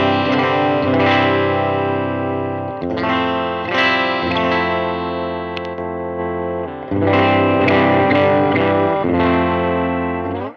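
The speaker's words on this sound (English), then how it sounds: "And you can coil split the bridge, which sounds like this." Wide Sky P-125C electric guitar played through its coil-split bridge pickup, strummed chords ringing with effects, distortion and chorus, loud and sustained with a few pauses between phrases, no talking.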